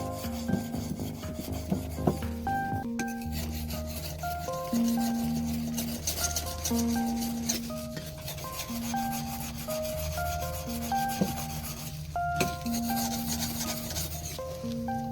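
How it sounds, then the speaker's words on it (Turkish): Blade being deburred on a coarse sharpening stone, steady back-and-forth rasping strokes at an even rhythm with a grinding motor hum underneath, close and continuous throughout, with no voices. "Önce kaba taşta tekrar çapağını alıyoruz."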